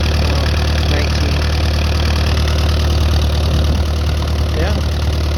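Case VAC tractor engine idling steadily just after a cold start, a continuous mid-low rumble at constant loudness, with faint voices in the background.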